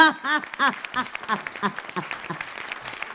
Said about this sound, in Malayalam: എല്ലാവരും ഒന്ന് കൈയടിച്ചെന്ന്